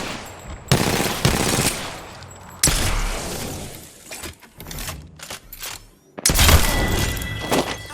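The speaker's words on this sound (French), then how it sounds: "On me tire dessus." Gunfire in a video game crackles in dense automatic bursts separated by brief lulls, loud and close with thuds and shattering impacts mixed in.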